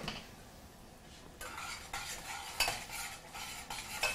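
A spoon stirs tomato paste into a brown sauce in a pan, making repeated rhythmic scraping strokes with a soft sizzle underneath, close and moderately quiet after a brief near-silent start.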